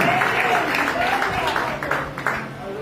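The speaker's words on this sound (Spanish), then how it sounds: "Dale un fuerte aplauso al Señor." Congregation applauding in church, a dense patter of clapping that fades over a few seconds while a voice speaks over it.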